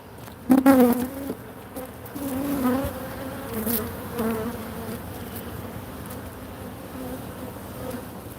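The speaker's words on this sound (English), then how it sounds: "Lots of bees and honey." A steady, dense hum of many honeybees buzzing close by at an open hive, with a louder swell of buzzing near the start that settles into a continuous drone.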